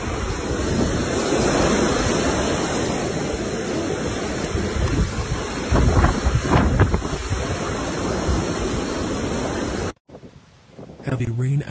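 Heavy rain and strong winds lash the Houston area during afternoon thunderstorms, a loud, dense roar of rushing wind and rain that buffets the microphone, then cuts abruptly to a quieter scene near the end.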